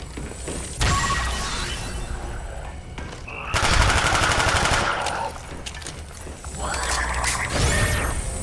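Gunfire in the video game Black Ops Zombies, loud bursts of rapid automatic shots and crashing impacts in several sustained volleys, close and dense, with faint talking underneath.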